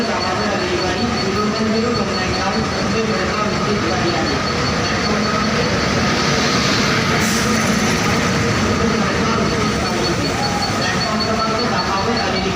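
Loud, steady rumble of the 01019 Madgaon special train rolling into a Konkan Railway station, a continuous heavy mechanical roar that fills the whole stretch without pause.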